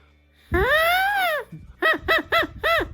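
A dandelion stem horn blown in several bursts: one long, wavering honk followed by four short, rising-falling blasts after the stem is trimmed shorter, giving a nasal, reedy, duck-like tone at close range.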